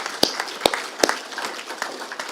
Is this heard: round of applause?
yes